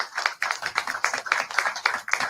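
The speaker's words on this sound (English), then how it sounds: "Give him a big round of applause." Applause from a community gathering audience, a dense continuous patter of many hands clapping at moderate distance, holding steady with small surges and no talk over it.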